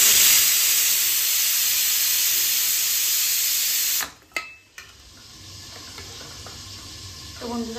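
Flat beans frying under a lid on low heat give a loud, steady hiss that fills the first four seconds. A lid clatter follows, then softer sizzling continues.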